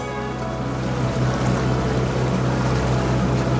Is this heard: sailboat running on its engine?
yes